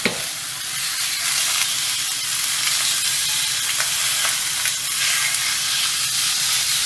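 Pan-seared lemon salmon fillets sizzle steadily in a hot pan, a continuous bright crackling hiss with small pops, close and alone.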